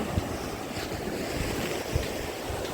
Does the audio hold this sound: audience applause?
no